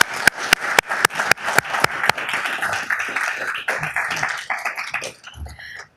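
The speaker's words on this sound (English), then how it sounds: "Can you give her a round of applause?" At a city council meeting, a small crowd gives a round of sharp, distinct claps at a steady pace that loosen into scattered clapping and fade out, with voices mixed in.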